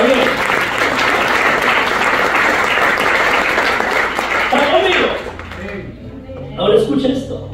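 A congregation breaks into loud, sustained applause, a dense wash of many hands clapping that carries on for several seconds before thinning out as a voice resumes talking.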